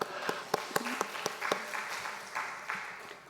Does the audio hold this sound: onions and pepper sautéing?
no